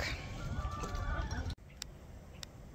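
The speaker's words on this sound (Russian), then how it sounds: "Это мараны, друзья. Это с прошлого года молоденькая курочка." A young Marans hen clucks softly inside a shed over a low rumble of background noise, with a few faint clucks after a brief cut.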